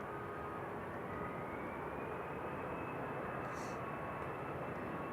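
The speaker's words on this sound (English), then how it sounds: "Next to roll is EasyJet off to Palma." An EasyJet airliner rolling for takeoff to Palma at Manchester Airport, a faint, distant, steady engine rumble with a thin rising whine running underneath.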